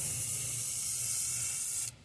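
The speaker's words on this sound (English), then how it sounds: "we're just gonna spray this at an angle" A spray can hisses steadily at close range as paint is sprayed at an angle onto a handmade fishing lure, one continuous loud burst of about two seconds that cuts off abruptly.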